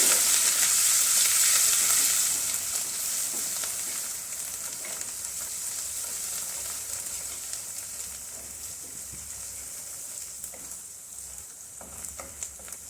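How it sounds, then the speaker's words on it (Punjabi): Crushed garlic and ginger sizzle in hot oil with cumin seeds for an aloo kofta curry, a steady close frying hiss that is loudest at first and then settles to an even crackle, with no talking. "ਲਸਣ ਅਦਰਕ ਨੂੰ ਫਰਾਈ ਕਰ ਲਵਾਂਗੇ"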